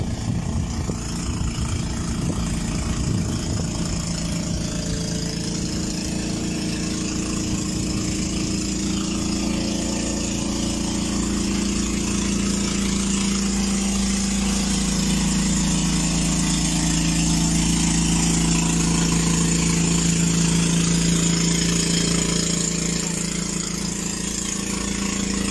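A motorboat engine drones steadily throughout, its low hum swelling slightly louder and then fading as the boat, carrying sand, moves past, with no voices.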